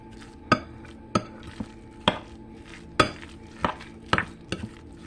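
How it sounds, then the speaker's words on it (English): A salmon croquette mixture is worked with flour in a bowl, making about eight sharp, irregular clinks and scrapes of a utensil against the bowl, close and clear over a quiet background. "And just mix that up real good to where it get kind of, the flour helps it stick together"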